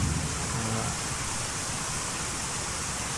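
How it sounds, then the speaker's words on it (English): Heavy rain pouring steadily during a storm, a loud, even wash of hiss that fills the whole stretch with no break. "But yeah, it's pouring."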